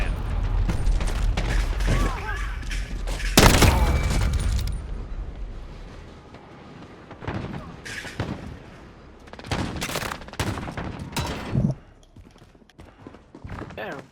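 Gunfire from weapons in a video game, with bursts of rapid shots and sharp single cracks scattered over background game noise and loud effects.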